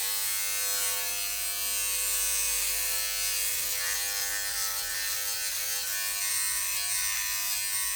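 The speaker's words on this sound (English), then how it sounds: "Just the trimmer blade." A Philips Body Groomer 7000 Series trimmer blade cutting hair: a close, continuous electric buzz with a steady motor whine that shifts slightly in tone as the blade moves through hair.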